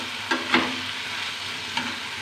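Potatoes and capsicum stirred in a hot pan, giving three distinct scraping spoon strokes over a steady low frying sizzle, no voices present.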